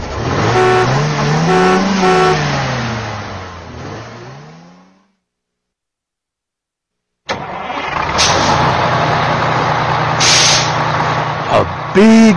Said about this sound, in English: A big bus.